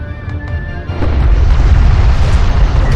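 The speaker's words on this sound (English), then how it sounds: "Armored vehicle is taking fire." Heavy, deep explosions and rumbling booms as an armored vehicle takes fire in the desert warfare strategy game Homeworld: Deserts of Kharak. A brief tone comes first, then loud sustained blasts roll on.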